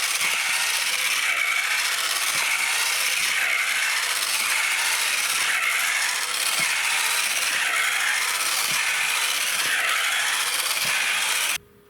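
Motors drive the feet of a giant homemade walking robot, producing a steady, dense mechanical whir with faint ratcheting clicks and periodic soft thumps of footfalls, continuous and fairly close for the whole stretch before cutting off abruptly.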